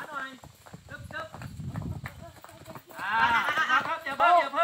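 A horse trots at a farm in Loei, Thailand, during a riding lesson, its hooves clip-clopping in a quick, even rhythm that grows louder and closer partway through, while people talk loudly over it.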